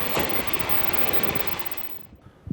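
A train rumbles and hisses through a Tokushima station, the broad noise holding steady and then fading away, with a couple of short knocks at the very end.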